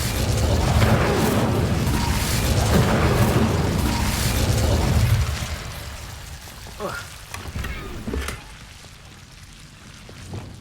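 An Incendio fire spell cast in Hogwarts Legacy, a loud roaring burst of flame with crackling, rain-like hiss for about five seconds, then dropping away to quieter pops and small bursts.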